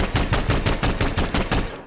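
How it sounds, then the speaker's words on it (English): Rapid automatic fire from the Concept 5 automatic pistol in Hitman 2, about a dozen loud, evenly spaced gunshots in a fast burst lasting under two seconds. "The Concept 5, an automatic pistol unlockable in Miami, has a special gunshot noise"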